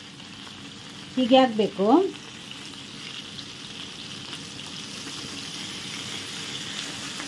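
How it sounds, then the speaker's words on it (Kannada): Anjal fish fries in a pan after being flipped, a continuous close sizzle with a short burst of spoken words near the start, then an even hiss that carries on alone. "ಈಗ ಎಲ್ಲ ಫಿಶನ್ನು ಉಲ್ಟಾಕಿ ಇನ್ನೊಂದು 5 ಮಿನಿಟ್ಸ್ ಹೀಗೆ ಇಡಬೇಕು."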